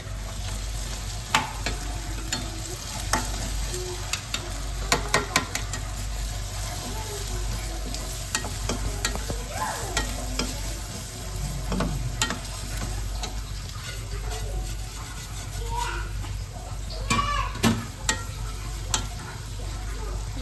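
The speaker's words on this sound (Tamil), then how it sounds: "இப்போ வந்து வெங்காயத்தில் மசாலா போட்டுக்கலாங்க." Onions fry with masala powders (kuzhambu powder, Kashmiri chilli, turmeric, coriander, cumin, garam masala) while a spoon stirs them, producing steady close sizzling broken by scraping stir strokes throughout, with no voice.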